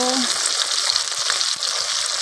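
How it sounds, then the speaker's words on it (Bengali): Pabda fish frying in hot oil, a steady loud sizzle with bright crackling spatter that continues without pause throughout. "আমার মাছ ভাজা হয়ে গেছে"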